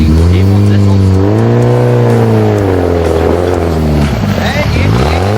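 A 4x4 with a 1.8 engine and no low range labors up an offroad obstacle at Hennops, the engine droning loud and close, pitch rising and sagging as it strains, with a voice talking over it.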